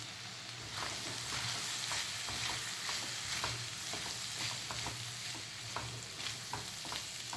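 Tindora (ivy gourd) stuffed with masala stir-fries in a pan, a steady sizzle broken by repeated clicks and scrapes of stirring, close and continuous with no talk.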